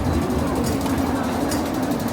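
Hong Kong MTR subway train pulling into the platform at a station, a steady low rumble and rolling hum of wheels and motors filling the space, loud and continuous with faint station noise above.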